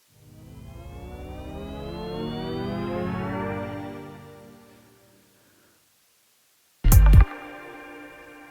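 A sampled tone pitch-bent upward 12 semitones in an Ableton sampler, a smooth rising sweep that swells and fades over about five seconds, followed after a gap by a sudden loud electronic hit and ringing tone.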